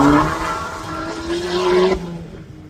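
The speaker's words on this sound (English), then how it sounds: "It's a low cost, an Eco Boost Ford engine." A low-cost hillclimb race car with a Ford EcoBoost engine drives up the course, its engine note rising steadily as it accelerates nearby, then cutting off abruptly after about two seconds.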